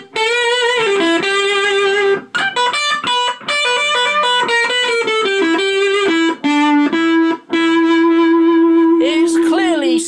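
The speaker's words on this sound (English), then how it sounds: "It sound just sounds like a distorted guitar." A bass guitar through an Electro-Harmonix Bass Big Muff pedal plays a sustained, buzzy line of held notes and short changes, loud and saturated, with a brief squealing slide at the end.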